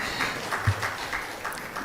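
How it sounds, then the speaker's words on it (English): A round of applause at a media summit in Ghana, steady crowd clapping throughout, moderately loud and even with no talk over it. "Please, let's give him another round of applause."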